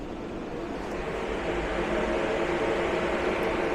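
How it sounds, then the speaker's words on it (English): A 24-volt DC CountryMod 10,000 BTU low-profile rooftop air conditioner's compressor kicks on, a steady broadband hum and whoosh that builds slightly in loudness and holds continuous throughout. "Okay, I'm hearing the compressor come on."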